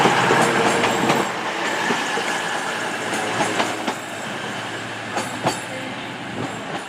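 Class 220 train moving through Exeter St David's station, a continuous rumbling rail roar with sharp clicks and metallic squeals from the wheels, close and loud throughout.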